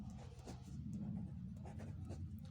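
A pen scratches across paper while solving a Class 9 geometry problem. The writing is soft, quiet and close, with small continuous strokes and no voice.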